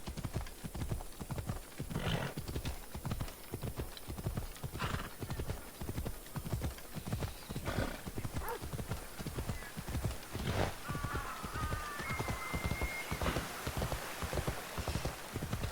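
Hooves of a horse ridden in a video game clip-clop in a steady, even walking rhythm, moderately loud and continuous, with a brief whinny-like sound partway through and no talk over it.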